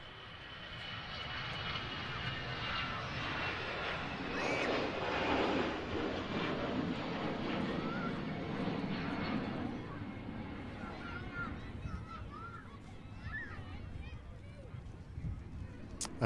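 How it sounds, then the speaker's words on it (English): An EasyJet airliner taking off from Manchester Airport gives a broad, steady jet roar that holds loud for about ten seconds and then slowly fades into distant rumble as it climbs away. "EasyJet on the roll. There you go, as the EasyJet coming up."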